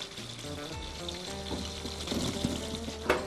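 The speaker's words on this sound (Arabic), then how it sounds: "حطينا البصل بالدهنة الحارة" Onions fry in hot oil with a continuous crackling sizzle and faint stirring clicks close by, with no talking.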